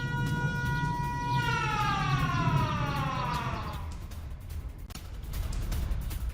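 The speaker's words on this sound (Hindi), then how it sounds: "हमलों के बाद जगह जगह एयर रेड अलर्ट सायरन भी" An air raid alert siren wails after attacks, several tones sliding downward together in a long falling sweep, heard from a distance over a low rumbling background that continues after the siren fades.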